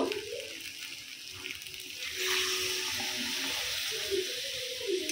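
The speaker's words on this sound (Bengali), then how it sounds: "একটু জল দিয়ে দিব।" Water poured into a pot of chicken curry makes a rushing splash that swells partway through over a background sizzle, close and moderately loud, with no speech.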